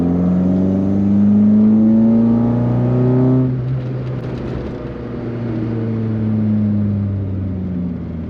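A Volkswagen Golf MK1 engine revs loudly in third gear, rising steadily in pitch, cutting off at a shift, then climbing again in a sustained, close drone.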